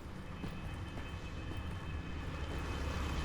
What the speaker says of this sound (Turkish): sesler drone sesleri geliyor yine